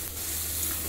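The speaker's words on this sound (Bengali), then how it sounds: "খুব ভালো করে ভাজা ভাজা করে নেব" Tomatoes, turmeric, salt and a little sugar frying in a pan for a Bengali bata fish chorchori give off a steady, close, even sizzle with no pauses.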